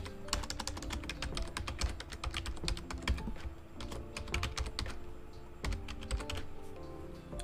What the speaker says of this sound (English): you just need to verify your email address by typing it again